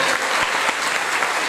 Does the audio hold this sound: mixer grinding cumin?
no